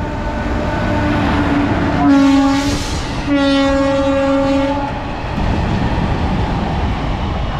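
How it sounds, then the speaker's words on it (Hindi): A train rolls past very close in a village in Hooghly on a rainy day, with a steady loud rumble of wheels on rails and two long horn blasts sounding over the passing cars. "देखो कितना नज़दीक तक आ सकते हैं हम लोग ट्रेन का"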